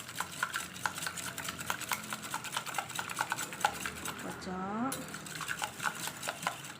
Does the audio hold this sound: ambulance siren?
no